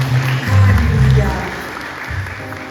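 A congregation applauding at a Sunday church service, with a steady wash of clapping under music and singing.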